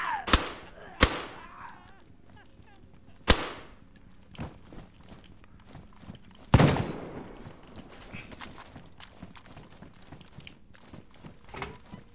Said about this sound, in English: Okay, I'm shooting again.